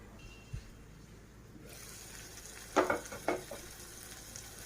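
Mutton keema with fenugreek leaves frying in a pan gives an even background sizzle, broken by a few close scraping stirs of a spoon against the pan.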